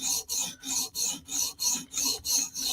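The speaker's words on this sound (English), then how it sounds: "these stones will make quick work of this edge, so it shouldn't be a big deal" A Mini Arius knife edge is drawn across sharpening stones in a clamped setup, giving about eight steady, evenly spaced rasping strokes, loud and close, with short gaps between passes and no talking.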